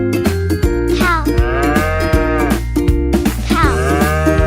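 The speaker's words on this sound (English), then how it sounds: "Cow," A cow moos loudly in a long, drawn-out call, set against busy children's music with a steady bouncing beat that runs throughout.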